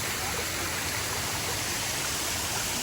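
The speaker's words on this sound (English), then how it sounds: "Got a little stream." A little stream at a waterfall park rushes continuously, a full, steady wash of falling water close by and unbroken from start to finish, with no voices.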